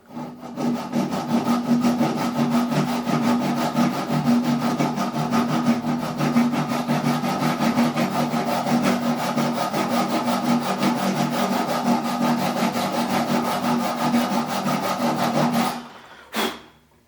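A hand saw rasps steadily through wood in fast, even back-and-forth strokes for a long stretch, close and loud, then stops abruptly.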